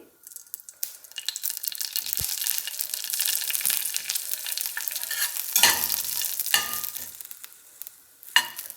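Green chillies, garlic cloves and grated coconut saute in oil, giving a soft, continuous sizzle with scraping stir strokes and a few sharper knocks of the spoon against the pan.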